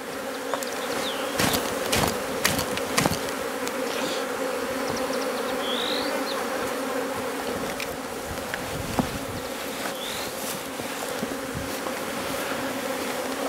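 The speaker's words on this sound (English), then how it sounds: "we're just going to shake the bees off and into the box there" Dense honeybee swarm buzzing steadily as bees are shaken off a frame into a hive box, close and constant, with a few sharp knocks and thumps from handling the frames.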